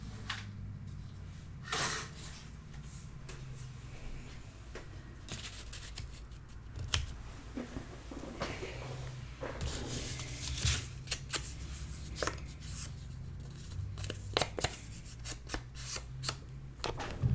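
Scissors snip and slide through paper for a scrapbook mini album, close and quiet, with repeated short cuts and rustling handling sounds spread across the whole stretch, no talking.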